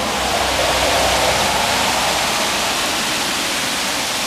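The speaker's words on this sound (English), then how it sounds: "Oh my goodness, it's hailing pretty hard." Hail falls hard outdoors beside a house, a dense, loud, continuous hiss and patter with no let-up, heard up close.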